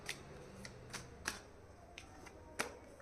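Tarot cards are shuffled by hand, a series of soft, quiet riffles and snaps spaced irregularly over a few seconds.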